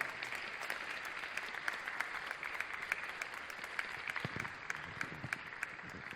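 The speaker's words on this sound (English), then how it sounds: "A big applause." An audience claps together in sustained, even applause, a dense patter of many hands heard from a little distance.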